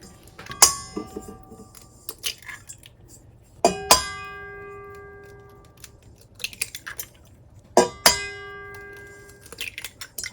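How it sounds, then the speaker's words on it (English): Eggs are cracked into a big mixing bowl while pumpkin pie filling is prepared, giving three sharp clinking taps spaced several seconds apart, each followed by light ringing and small handling clatter in a quiet kitchen. "So we'll crack all our eggs into our mixing bowl"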